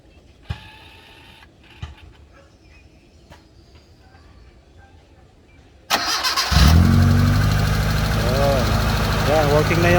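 A Mitsubishi Lancer's engine cranks and catches after a few quiet seconds of faint clicks, then settles into a loud, steady close idle with a rising whine over it.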